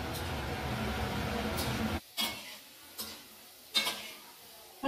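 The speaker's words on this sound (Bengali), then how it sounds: "গোল্ডেন ব্রাউন হওয়া পর্যন্ত এটাকে ভাজবো।" Gulab jamun balls frying in hot oil give a dense, steady sizzle for about two seconds, then it cuts away, leaving a quiet background with a few sharp ticks and taps.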